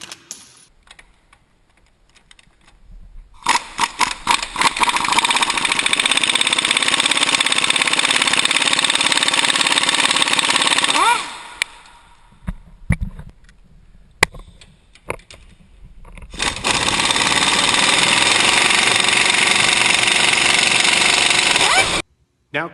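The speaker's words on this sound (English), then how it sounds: "I'm using a 1/2-inch impact with a 15mm wobble socket to remove them" A 1/2-inch impact wrench with a 15mm wobble socket removing 15mm fuel tank strap bolts on a Chevy Silverado, sounding as two long, loud, rapid hammering bursts with a few short rattling taps in between.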